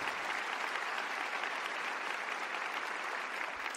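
A crowd in the Movistar Arena claps steadily for an orchestra in dense, even applause that holds at a constant level throughout, with no talking.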